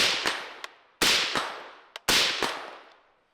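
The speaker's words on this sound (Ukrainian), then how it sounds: "Ось і тому ви можете стріляти на великій відстані" Three sharp SPR Bullpup rifle shots in a video game, fired about a second apart, each a loud close crack followed by a long fading tail.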